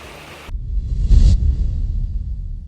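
A river rushes steadily through the Guam gorge, a broad low roar that starts abruptly and continues, with a brief louder swell midway.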